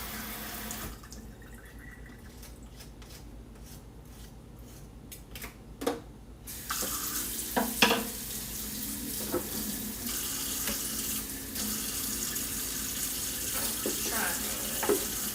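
A kitchen tap runs into a sink while dishes are washed up, a quieter trickle giving way to a fuller, louder gush with clinks of crockery, close by.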